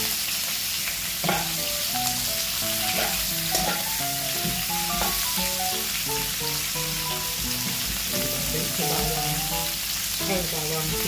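Garlic and onion sauté in a hot pan, giving a steady, loud sizzle with frequent scraping and stirring over it the whole time and no talking.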